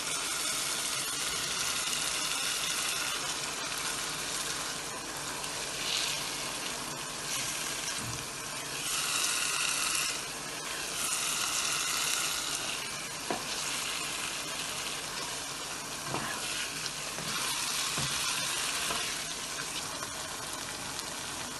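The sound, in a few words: frying minced meat qeema in a pan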